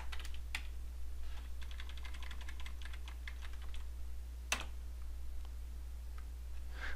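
Computer keyboard typing in a quick run of light, close key clicks, then a pause and a few more taps over a low steady electrical hum, with no voice.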